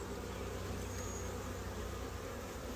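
Dense, steady buzzing of many honey bees swarming close by during a hive inspection, a continuous hum with no voices.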